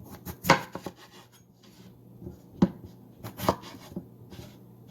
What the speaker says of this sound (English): I prefer cutting them to quarterly pieces like this.